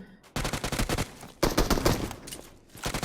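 Automatic gunfire from a shooter video game, played during a one-minute Instagram challenge match, comes in loud, dense bursts of rapid shots, with two long sustained volleys separated by brief pauses and a shorter burst at the end.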